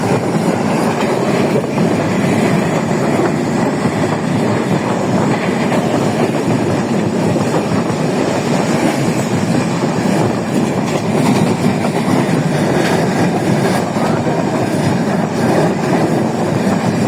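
Train rolling along rails past mustard fields in rural Bangladesh, heard from inside the carriage: a loud, steady rumble with a continuous rattling clatter throughout, no voices.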